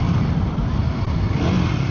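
A Royal Enfield Guerrilla 450, a liquid-cooled 450 cc motorcycle, holds a steady, loud engine drone with slight throttle swells, close up and with no talk over it.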